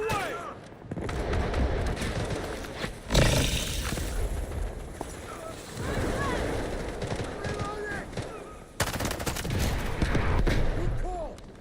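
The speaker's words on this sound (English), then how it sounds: "Grenade on the way!" Gunfire and a grenade blast in the video game Delta Force, with bursts and a sharp explosive surge amid a dense, continuous battle din and voices talking over it.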